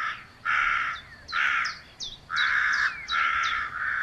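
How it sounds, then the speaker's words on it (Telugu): A crow tied with rope at a chicken shop in Tatipaka market, Konaseema, gives a run of about six loud, harsh caws close by, separated by short pauses, with no talking. "చూడురి కాకిని తాడుతోటి ఎట్లా కట్టేసిండో."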